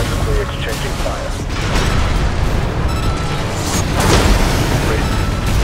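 Heavy weapons fire in an Armored Core 6 boss fight against the Cataphract, loud booming blasts and mechanical clatter layered densely throughout, with bursts of impact punctuating the dense roar.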